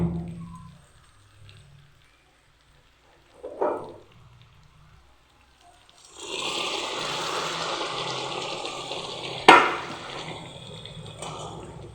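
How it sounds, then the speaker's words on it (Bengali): Hot water poured into a pot of cooking chicken, a soft splash at first, then a steady louder hiss and bubbling sizzle as the liquid hits the hot meat, with a sharp clink near the end. "এই গরম জলটা আমি এখন মাংসতে দিয়ে দিব।"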